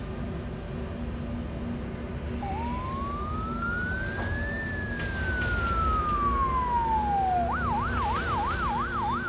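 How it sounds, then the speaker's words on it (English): A police siren gives one long rising and falling wail, then switches to a rapid yelping warble, over steady background noise from a video game. "That sounds like a cop car."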